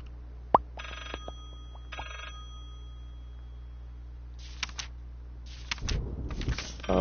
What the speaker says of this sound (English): Okay, I hear a phone ringing.